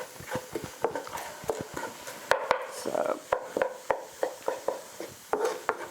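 A pot of puff pastry wellington filling stirred over a camping gas stove: rapid close scraping and clanking strokes of a utensil against the pot over a low background hiss, with no talk.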